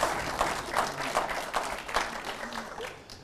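Applause from an audience at a live stage show, dense clapping throughout at moderate volume with crowd noise.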